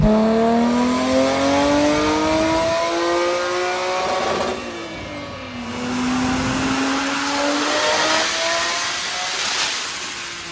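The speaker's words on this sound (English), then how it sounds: "now it's on the dyno and it's running pretty good" A 700+ hp drift car engine runs on a dyno, revving loud and close in rising and falling sweeps, dipping briefly mid-way before climbing again.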